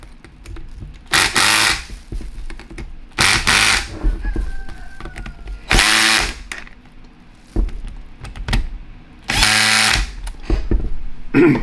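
An Ingersoll 1-inch impact wrench hammers bolts tight in four loud, sharp bursts, separated by quieter pauses with faint mechanical noise.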